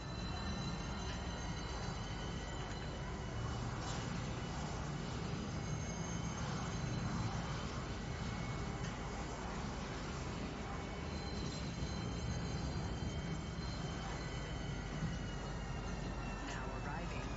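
A Star Citizen train pulls into Tisa Spaceport: a steady rumble of rolling rail cars and faint wheel squeal, with a recorded announcement and brief talk over it.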